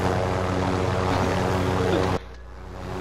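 Helicopter in a multiplayer video game, a steady loud rotor and engine drone that fills the first two seconds, then cuts abruptly to a quieter hum.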